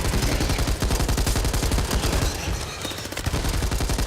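Dense, rapid gunfire in the video game Back 4 Blood, a loud continuous fusillade of fast repeated shots filling the whole stretch with no pause.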